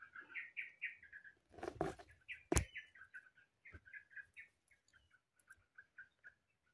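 Bright, repeated bird chirps and tweets in quick series, with a couple of sharp rustling or knocking sounds partway through and no talking.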